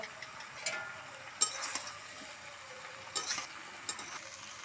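Chickpeas being stirred into vegetables frying in a pan for pachon give a soft steady sizzle, broken by several sharp scrapes and clinks of the spoon against the pan.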